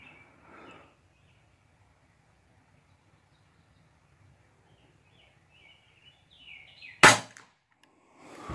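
A single sharp crack of a compact EDgun Lelya 2.0 .22 airgun firing, loud and abrupt after several seconds of near silence, with faint birdsong in the background.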